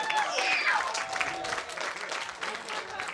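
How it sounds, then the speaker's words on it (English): Crowd applause at a high school graduation ceremony, sustained clapping filling the hall with a few whistles and cheers near the start. "Now, if that doesn't deserve a round of applause"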